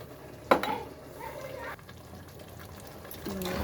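Chicken biryani masala with a splash of water is stirred in a pressure cooker. A sharp clank of the spoon against metal opens a few seconds of scraping and sloshing mixing, with a faint voice near the end.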